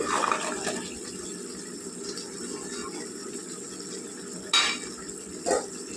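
Paneer and vegetable curry being stirred in a pan, soft scraping and a low simmering bubble, with two sharp clinks of a spoon against metal near the end.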